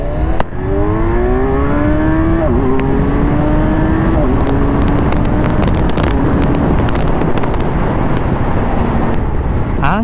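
Kawasaki Ninja 1000SX 2022 with its 1000cc four-cylinder engine and stock exhaust, revving up through gears on an open road, loud and close, with rising pitch sweeps and wind noise throughout.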